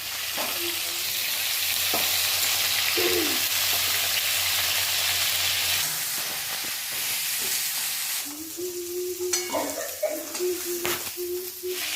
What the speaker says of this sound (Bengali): আর এখানে ঝোলের জন্য আলু, সিম, এটা ওটা সব ভেজে নিচ্ছি সবজি।